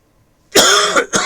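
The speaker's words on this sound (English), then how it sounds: "Cough, cough." A single close, loud cough, sharp and harsh, breaking into two or three bursts after a moment of silence.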